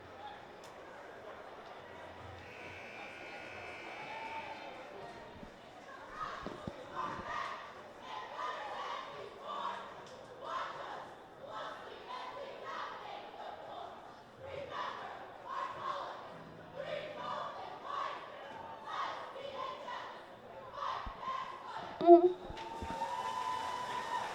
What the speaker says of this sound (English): the cheerleaders get a nice round of applause